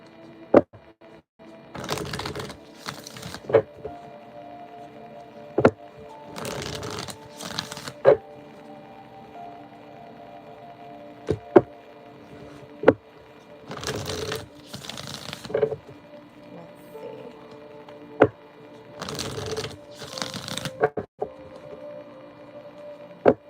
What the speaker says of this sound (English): I need a good shuffle on this deck.